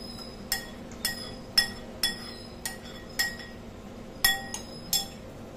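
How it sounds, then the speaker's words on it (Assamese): Gram flour (besan) being stirred in a kadai, a series of sharp metallic clinks as the spoon taps against the pan, roughly one every half second, fairly close and clear, with no talking. "এয়া মই গোটেইখিনি বেচনে ভালদৰে লৰাই দিছো"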